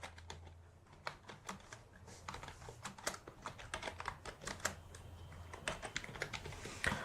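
Fast, irregular clicks of a computer keyboard as text is typed, close and fairly quiet, with no one speaking.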